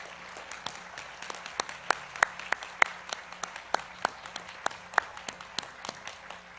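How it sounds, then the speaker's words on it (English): Sparse, scattered clapping honours retiring teachers at a middle school moving-up ceremony. Distinct individual claps ring out at an irregular pace over a quiet background, sounding like a small or distant audience. "Please give them a round of applause."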